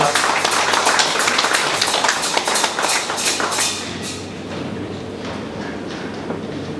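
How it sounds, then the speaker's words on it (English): A church congregation at a Sunday service applauds to welcome a pastor, a dense wash of clapping that runs strong for a few seconds and then thins out and softens. "Can we all give him a big round of applause?"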